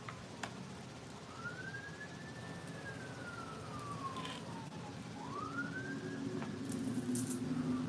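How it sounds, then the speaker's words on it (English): A wailing siren sweeps up and down twice at moderate distance, rising and falling over a low background rumble of traffic. "Oh, y'all hear that? Here come another siren."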